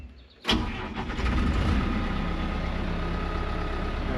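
A John Deere 190E mini excavator's engine catches abruptly, then settles into a steady, loud diesel drone that runs continuously close by.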